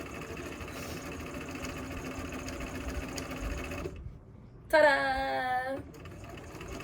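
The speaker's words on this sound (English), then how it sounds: "still sewing away on her romper" A sewing machine runs steadily on a quilted romper, a close, even mechanical whir for several seconds before it stops and a voice calls out briefly.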